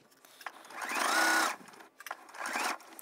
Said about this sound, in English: I'll turn the corner and just sew a couple of stitches and back tack